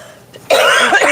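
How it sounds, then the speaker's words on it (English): A short, harsh cough bursts out loudly after a brief quiet moment, a single rough expulsion close to the listener. "so I still have a little bit of a cough"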